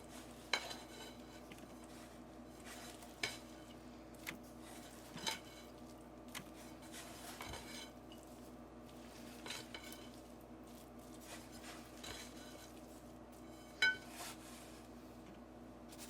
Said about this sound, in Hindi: इस तरह से मिक्स करेंगे, ऊपर नीचे कर दें